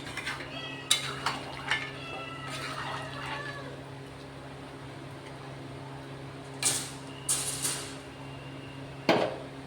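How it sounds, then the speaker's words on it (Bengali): A pot of chicken with a little water is stirred before simmering, heard as faint, scattered metallic clinks and scrapes of a utensil against the pot over a low, quiet kitchen hum. "দুটোকে নাড়াচাড়া করে আমি সেদ্ধ হতে দেবো"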